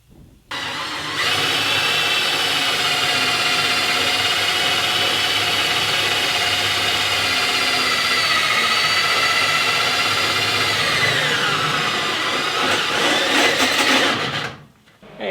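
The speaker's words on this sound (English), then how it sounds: "The Redneck drill press." A steady, loud motor whine from an improvised redneck drill press boring through metal, running continuously for most of the stretch before winding down near the end.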